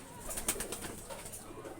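A high-flying pigeon with a closed tail, a young bird, sets off when let go, with soft cooing and faint bird calls over steady background noise and no voices.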